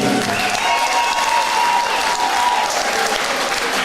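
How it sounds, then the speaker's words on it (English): A boxing club audience applauds at a season-opener bout, a dense, steady wash of clapping filling the hall, with faint voices and a sustained tone carrying underneath. "keep your appreciation and applause going for his opponent, Alexander Townsley"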